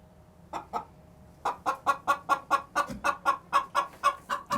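Chickens of several breeds cluck in a school coop. After a few scattered clucks, a steady rhythmic run of close, repeated calls follows with no talking.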